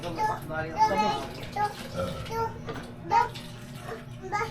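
Water is poured into a container during a family meal, a soft splashing wash that sits beneath near, overlapping talk from a child and an adult.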